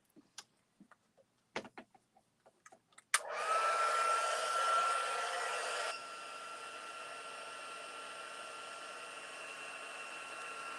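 Scattered small clicks and taps give way to an embossing heat tool switching on to heat-set embossing on a stamped card. Its steady airy whir with a thin whine runs close and continuous, dropping slightly in level partway through.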